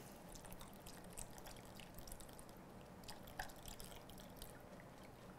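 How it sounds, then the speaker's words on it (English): Lime juice is poured into a bowl of key lime pie filling made with egg yolks, giving a faint, continuous liquid trickle with a few soft drips in a quiet kitchen. "then in goes the lime juice"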